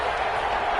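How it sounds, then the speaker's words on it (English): A stadium crowd roars in a PS4 football video game ahead of a big third down, a brief, steady and dense rush of cheering noise. "The crowd getting into it as we come up on a big 3rd down."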